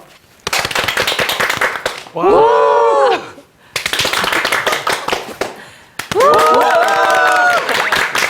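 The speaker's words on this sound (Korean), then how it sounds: "왼손을 들면 박수, 오른손 함성." A crowd claps in two long rapid bursts, alternating with loud shouts and cheers from many voices, nearby and energetic, at a real estate talk show.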